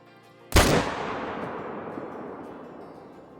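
A single loud gunshot from the hunting video game Call of the Wild cracks sharply, then leaves a long reverberating tail that fades slowly over several seconds.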